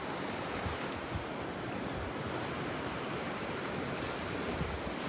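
Beach surf at Vanderbilt Beach in North Naples, Florida: a steady, loud wash of breaking waves with a wind rush, continuous throughout and no voices.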